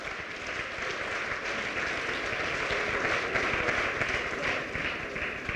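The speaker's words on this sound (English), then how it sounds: "Let's give them a round of applause." A crowd at a start-up competition finale claps in sustained, dense applause that stays fairly loud and even for several seconds, with no talking.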